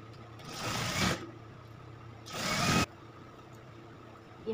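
An electric sewing machine stitching Anarkali suit fabric in two separate runs of about a second each, a fast close whirring buzz with quiet pauses between, with no talking.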